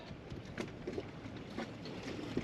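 Harken sailboat winch being cranked in the reverse direction during maintenance, giving soft clicks and metallic ticks at an uneven pace over a steady broadband hiss, close and fairly quiet.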